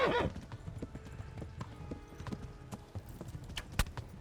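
Horse hooves from the video game Kingdom Come: Deliverance clip-clop steadily across the ground at a quick gallop, with a brief whinny at the start and scattered knocks around them.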